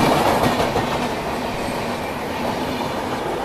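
Dhanbad–Ferozepur Cantt Ganga Sutlej Express of Indian Railways rolling past close by, a loud, continuous rumble of wagons with steady clickety-clack from the wheels and faint squeal, no talk.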